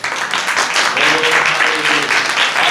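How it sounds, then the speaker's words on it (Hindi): A church congregation claps steadily in praise during a Hindi-language sermon, a dense, continuous wash of applause filling the room. "ताली बजा के प्रभु की तारीफ।"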